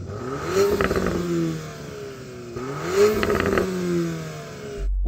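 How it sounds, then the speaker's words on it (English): A Porsche Cayman GTS engine revs at a drag-race lineup, rising twice in strong throttle blips with rasping exhaust crackle, close and loud, with no talk. "can you rev up your Porsche, please?"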